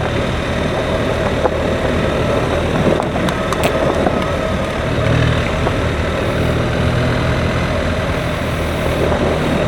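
A BMW R1300 GSA motorcycle engine drones steadily while riding in second gear, a continuous low rumble with road and wind noise at an even, moderately loud level throughout, no talking.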